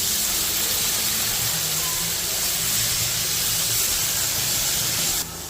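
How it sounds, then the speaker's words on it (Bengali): Potatoes and pointed gourd fry in hot oil with salt and turmeric, giving off a loud, continuous sizzle and hiss that stays constant throughout and cuts off abruptly just before the end. "একই পাত্রে সামান্য লবণ আর হলুদ দিয়ে আলু ও পটলগুলো ভেজে নেব।"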